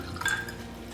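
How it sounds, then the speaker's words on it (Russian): Vodka is poured from a small 50-gram glass into a glass jar for pickling cucumbers, a short, faint trickle with a few drips and a light glassy tinkle, close and quiet. "Пока у меня закипает рассол, налью в банке водку."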